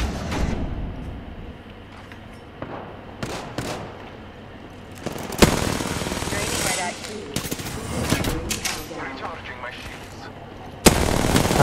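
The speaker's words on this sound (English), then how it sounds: "I'm just shooting randomly." Gunfire in the Apex Legends video game, bursts of rapid shots and scattered single cracks coming in clusters, loud and close, with a player talking between volleys.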